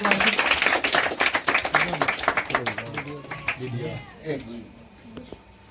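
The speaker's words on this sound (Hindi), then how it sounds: "तो जोरदार ताली के साथ स्वागत करेंगे।" Audience clapping to welcome a newly selected Indian Army recruit, starting loud and dense, mixed with people talking and calling out, then thinning out and fading as voices take over toward the end.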